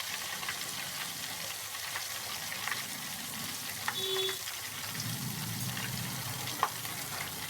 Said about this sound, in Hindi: अब मैं फिर इसमें डालूंगी, थोड़ा बबल्स कम हो गए हैं